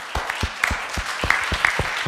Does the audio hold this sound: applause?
yes